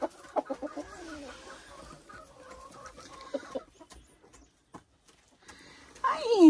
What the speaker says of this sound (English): So Ash's flock consists of three buff girls